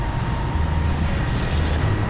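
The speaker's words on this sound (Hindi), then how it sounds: "ये सदर का मेट्रो स्टेशन है।" Train rumbling steadily through Saddar metro station in Rawalpindi, a continuous low, loud rolling drone with faint rail clatter and no pauses.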